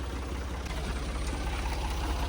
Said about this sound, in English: Hold on, the engine's gonna hit.